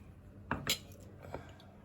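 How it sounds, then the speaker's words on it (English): Lamb mince kebab ingredients mixed in a bowl with spices and gram flour: a few quiet clinks and scrapes of a utensil against the dish, close and sparse. "First, you want to mix up the ingredients."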